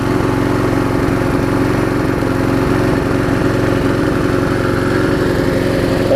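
Murray self-propelled lawn mower engine running at a steady idle, a loud close chugging putter with an even rhythm and no pauses. No voice is heard.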